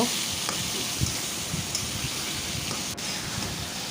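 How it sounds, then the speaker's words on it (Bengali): Pigeon meat stir-fried in a spice masala in a pan, giving a soft, continuous sizzle with scattered crackles and light scraping. "মাংস দেওয়ার পরে ভালো মতো কিছুক্ষণ নেড়ে চেড়ে কষিয়ে নেব।"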